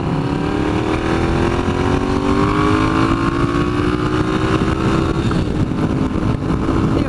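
Engine of a 2015 Triumph Scrambler motorcycle with the exhaust baffle fitted, droning loud and close as its pitch climbs steadily under acceleration, with rushing wind noise throughout and no talking.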